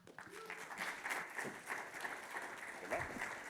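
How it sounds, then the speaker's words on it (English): Steady applause from a conference audience at a tech event, filling the room evenly for several seconds, with a faint voice briefly audible underneath. "Warm round of applause for Santiago"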